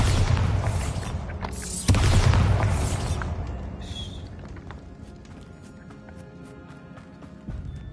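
A spell blast in a video game lands with a deep boom, and a second heavy impact follows a couple of seconds later. Crackling debris and a long fading rumble trail behind them, with lighter clatter near the end.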